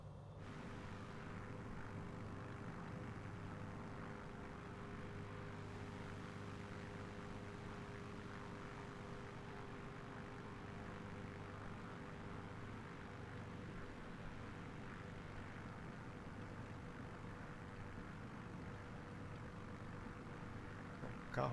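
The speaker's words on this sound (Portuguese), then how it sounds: "Vendo o nosso aviãozinho aqui, ó. Vai vir passar por aqui e por lá." A simulated airplane in Microsoft Flight Simulator passes near Manaus on the Amazon, its engine making a steady, low, continuous drone that stays even and fairly faint throughout, with no voices.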